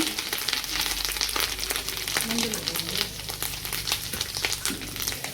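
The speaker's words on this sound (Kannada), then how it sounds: "ನಂತರ ಒಂದು ಅರ್ಧ ಹೋಳಷ್ಟು ತೆಂಗಿನಕಾಯಿನ ಹಾಕ್ಕೊಂಡು ಇದಕ್ಕೆ ಫ್ರೈ ಮಾಡಬೇಕು." Half a coconut's worth of pieces frying in a pan for patrode, giving a dense, continuous crackling sizzle close by with faint clinks of stirring throughout.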